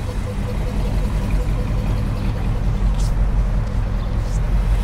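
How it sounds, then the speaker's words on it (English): A 1957 Ford Fairlane 500 Skyliner convertible engine runs steadily at idle, a low, even rumble heard at close range with no talking. "You can hear the engine, it sounds great."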